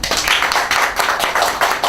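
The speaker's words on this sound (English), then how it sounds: "Give her a round of applause." Steady applause from a group at a graduation ceremony, dense clapping sustained throughout, fairly loud and close.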